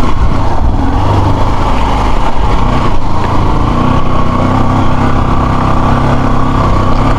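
A Honda motorcycle rides along a rough village road, its engine a loud, steady droning rumble heard up close throughout with wind noise and no voices.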